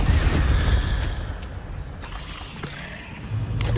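A fire spell cast in the game Hogwarts Legacy: a loud whooshing, booming burst that fades into a rushing, crackling roar over a few seconds, fairly close, with no speech.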